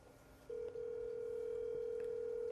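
A telephone tone sounds on a call, a steady single pitch starting with a short burst and then holding continuously, clear and fairly quiet over faint background.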